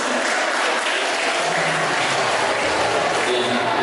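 Audience applause fills the hall at the grand final of the 2019 Putri Pariwisata pageant in Nias Regency. It is a steady, dense wash of many hands clapping that continues unbroken throughout.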